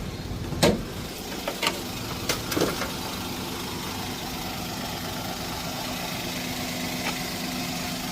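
A used second-hand car at a car sale idles with the engine bay open, a steady low hum running throughout, marked by a few brief clicks and knocks in the first three seconds.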